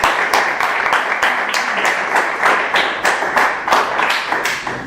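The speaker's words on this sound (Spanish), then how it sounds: "un aplauso para Gabriel" Clapping from an audience at a lecture on Marxism and Peronism welcomes the speaker, Gabriel Rot, with steady, dense applause that keeps a fairly even level for about five seconds.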